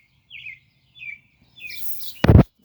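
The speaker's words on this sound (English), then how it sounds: "The bird is back supervising again." A small bird chirps outdoors in a yard, three short high tweets spaced apart, followed by a brief loud clattering rustle near the end.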